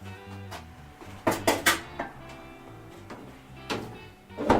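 A Martin's Cook dish is set down on the floor of an oven, giving several sharp metallic clatters and knocks in quick bursts, then a couple more scrapes and clunks a moment later.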